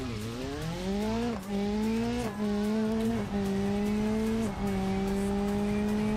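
Rally car in the BeamNG driving game braking into a corner, its engine note holding steady and loud with short dips between gear or throttle changes, no talking.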